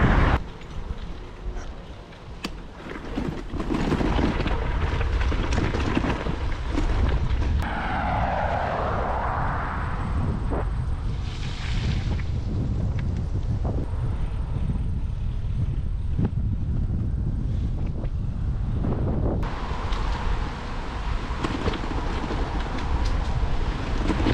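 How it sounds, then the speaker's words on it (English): Strong headwind buffets the microphone of a touring bicycle riding through Rome, New York, a loud continuous low roar with gusty swells throughout and no talking. "Serious headwind coming through Rome."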